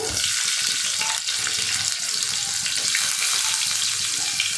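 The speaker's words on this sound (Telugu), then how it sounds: "ఆనియన్ వేసిన తర్వాత కొద్దిగా వేగనిద్దామండి" Onions frying in a pan on high heat for carrot curry, a loud dense hiss of sizzling oil heard close up, steady throughout with a brief dip, no talking.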